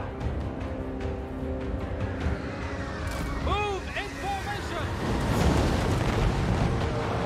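Rocket launcher explosions boom and crackle in the Total War: Warhammer 3 video game, a rolling battle din with bursts and a brief whistling, getting louder toward the end.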